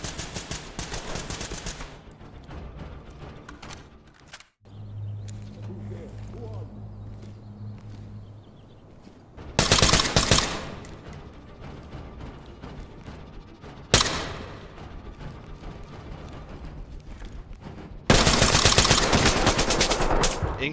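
AI enemies in the video game Ready or Not fire long, loud bursts of automatic gunfire. The bursts break off into quieter stretches with scattered shots and someone talking, then return in heavy, close volleys.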